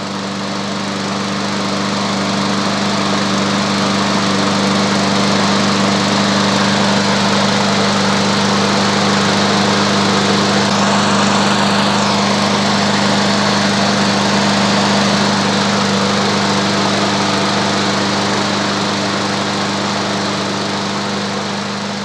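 An AL-KO lawn mower engine runs steadily at a constant idle to warm its oil, a loud, close, unbroken mechanical drone with a strong low hum and no voices.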